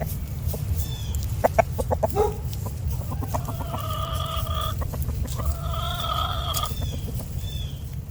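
Chickens cluck close by in a short burst of sharp calls, followed by longer, harmonic squawks over a constant low rumble of background noise.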